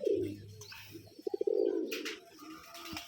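Domestic pigeons coo softly and close by while pecking at crushed brick chips mixed with soil, with a few faint pecking taps and rustles between the low, rolling calls.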